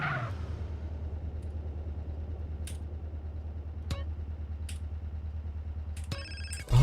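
A phone rings in GTA: San Andreas during a speedrun, a short electronic ringtone bursting in near the end over a steady low in-game engine rumble, with a few faint clicks before it.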